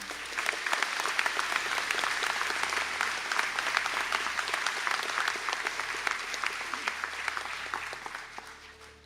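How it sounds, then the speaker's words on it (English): A large audience claps steadily through a graduation conferring ceremony at Sligo and St Angela's, a dense, sustained round of applause with no voices over it. "we'll give that group in their absence a round of applause"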